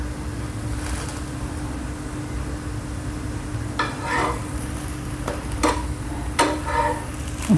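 Oats dosa cooking on a hot pan, a steady low sizzle running throughout with a few soft scraping or stirring touches near the end, close and fairly quiet, with no talking.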